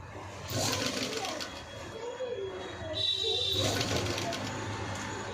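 A sewing machine stitches a patchwork blouse, running in a steady close whir that pauses briefly midway and then starts again.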